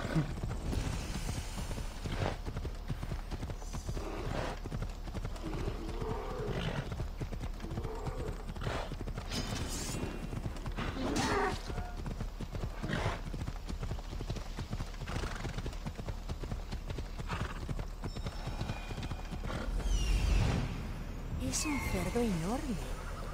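Horse hooves clip-clop in Assassin's Creed Odyssey, a steady run of close, rhythmic hoof strikes with occasional neighs, heard under game sounds and someone talking.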